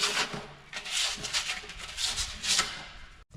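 Close, rhythmic sanding of a plastic septic riser surface before epoxy is applied, with quick back-and-forth rasping strokes repeating steadily for a few seconds.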